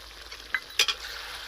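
Chicken and pointed gourd cook in oil in a pan with garam masala paste, a soft sizzle under a few sharp metallic scrapes and clinks of a spoon stirring against the pan.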